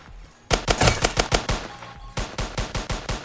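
Rapid gunfire from a one-shot weapon in the Roblox game Polyguns, a burst of loud, sharp reports in quick succession, a brief pause, then a second steady volley of shots, close and dry with no talking.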